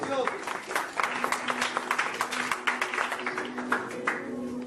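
A church congregation gives applause to the Lord, with scattered, uneven claps heard near the mic beneath overlapping voices and talk.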